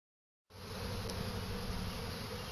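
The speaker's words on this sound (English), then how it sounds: "I got an unusual amount of activity around my number 5 hive here." Honeybees buzz in a dense, steady swarm around an active hive at an apiary, starting abruptly after a short silence and holding a continuous close drone throughout.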